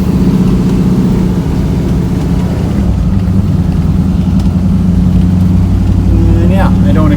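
The engine of a square-body GMC Jimmy K5 rumbles loudly and continuously from inside the cab as it drives slowly with a flat tire. A voice talks over the steady engine drone.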